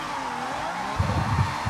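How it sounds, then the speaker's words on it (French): A Lamborghini drifts in Forza Horizon, its tires squealing over a steady engine drone, with a rough skidding rumble swelling near the end of the brief moment. "Oula, très mal géré le drift là."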